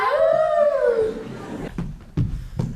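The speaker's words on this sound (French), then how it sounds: "Alors Marc, on a fait un pacte avec les loups" A wolf lets out a single long rising and falling howl up close, followed by a few dull knocking thuds.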